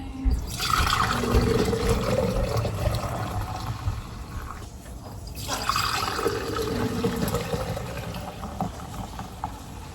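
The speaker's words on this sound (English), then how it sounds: "This is the beef bone broth, so I'm going to strain it and put it in jars" Homemade beef bone broth is strained and poured into jars for canning. Liquid splashes and runs in a steady stream up close, easing briefly midway before flowing again.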